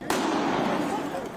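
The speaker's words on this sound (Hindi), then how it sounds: "उसी चीना झपटी के दौरान हमलावर ने एक बार फिर गोली चला दी।" A single sharp gunshot from an attacker's pistol rings out during a struggle inside the Golden Temple, a sudden close crack followed by a ringing decay.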